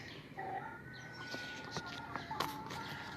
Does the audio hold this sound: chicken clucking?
yes